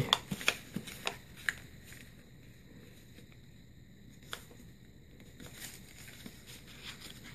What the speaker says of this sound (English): I will fold slowly, and I will fold straight to this corner.